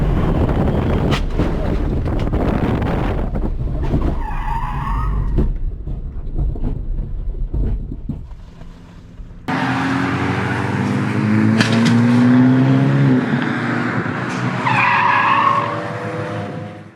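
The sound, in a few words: car spinning out while braking in rain, racing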